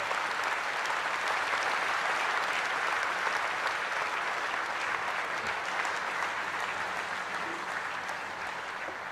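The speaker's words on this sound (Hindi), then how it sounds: "जोरदार, दमदार, जानदार तालियों के साथ स्वागत कीजिए भारत के प्रधानमंत्री श्री नरेंद्र मोदी।" Sustained, dense applause from a large audience greets India's Prime Minister at the INS Vikrant aircraft carrier commissioning ceremony, steady and loud throughout before easing slightly at the end.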